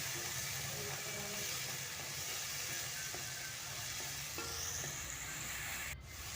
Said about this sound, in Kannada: ಇದನ್ನು ನಾವು ನೀಟಾಗಿ ಫ್ರೈ ಮಾಡ್ಕೋಬೇಕಾಗತ್ತೆ.